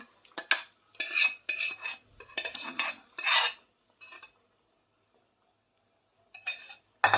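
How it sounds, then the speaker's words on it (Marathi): A spoon stirs and scrapes through thick cooked dal with peanuts in a metal pan in several quick bursts, with brief pauses between strokes and a longer quiet stretch. "शिजलेली डाळ घालून मिक्स करून घेऊया व्यवस्थित"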